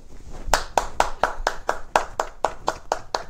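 Rhythmic soul clapping, about a dozen sharp hand claps in a steady even pulse, close and fairly loud with no talk over them.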